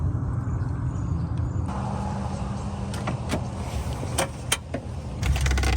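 A Porsche 986 Boxster power window motor whirs up close inside the car, with a low steady drone and a few sharp clicks and knocks near the end.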